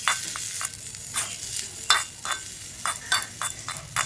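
Chopped tomato and boiled soybeans sizzle in a hot pan for a soybean curry, with steady frying hiss broken by repeated scraping stirs, close and moderately loud with no talking.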